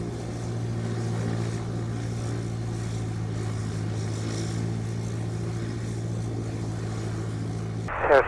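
Spitfire aircraft on final approach to land at Duxford, a steady droning piston-engine hum at a distance, fairly constant throughout, with a brief louder rustle at the very end.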